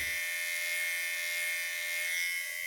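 An Enchen Boost Black electric hair clipper runs close by, giving a steady, even high-pitched motor buzz throughout with no talking.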